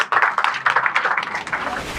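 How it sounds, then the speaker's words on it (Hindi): A small group of students claps for a university vice-chancellor, with close, uneven hand claps for about two seconds that fade toward the end. "ताली बजाओ"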